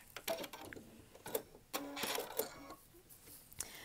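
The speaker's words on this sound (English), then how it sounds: "the thing about a walking foot is it always makes a little bit more noise because you have more pieces walking around in there" A sewing machine fitted with a deluxe three-sole walking foot stitches a decorative stitch in short, uneven bursts of clattering, whirring mechanical noise, fairly close and quiet, with no voices.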